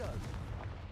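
Confringo blasting spell in Hogwarts Legacy, a burst of booming, gunfire-like blasts that rumble through the whole moment at fairly low volume.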